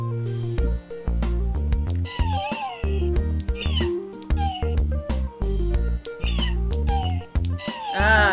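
An old electronic toy cat gives repeated synthetic meows and chirpy tones when its button is pressed, loud and close, in short bursts with brief gaps and musical electronic notes between them.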